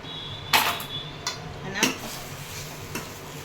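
A spoon stirs a potato masala filling for dosa in a metal pan, giving a few sharp scraping clinks against a soft background sizzle.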